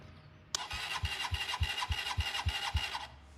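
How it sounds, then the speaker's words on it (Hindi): A motorcycle's starter cranks after a cold, dew-soaked night, with a sudden onset followed by a quick even series of about eight labored chugging turns that stop without the engine catching. "बाइक जो है वो स्टार्ट करेंगे क्योंकि बहुत ज़्यादा शबनम पड़ी हुई है"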